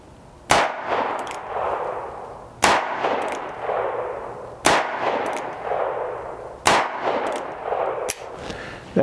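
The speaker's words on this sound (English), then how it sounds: "We're going to take some 15-yard shots at the old bad guy up there and see how they do." An EMF Gambler Royal .45 Colt revolver fires Aguila Cowboy loads at a target 15 yards away. Four sharp, loud shots come at roughly even two-second intervals, each followed by a ringing metallic clang and a short echo outdoors.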